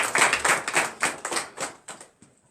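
A congregation at a morning prayer service claps in a brief burst of about a dozen sharp, rhythmic claps that thin out and fade to silence near the end.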